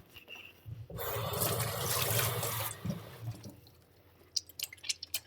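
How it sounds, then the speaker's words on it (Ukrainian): A running water tap pours steadily as hands are washed beneath it for about two seconds, then the stream stops and leaves scattered drips and small splashes in a sink. "як я зараз мою руки"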